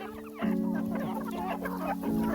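A chicken clucks close by in short, choppy bursts over a steady low hum.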